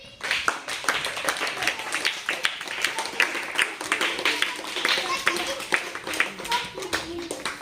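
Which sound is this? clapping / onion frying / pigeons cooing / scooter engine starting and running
clapping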